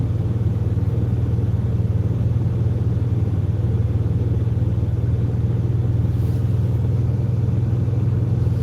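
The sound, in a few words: van engine and exhaust running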